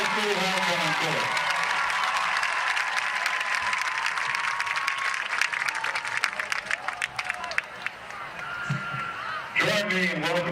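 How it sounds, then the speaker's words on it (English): Crowd at a high school football homecoming game applauding the homecoming court, a broad, sustained roar of clapping and cheering from many people outdoors, with an announcer's amplified voice at the start and again near the end. "Let's give a big round of applause to the entire 2022 Walker High School homecoming court."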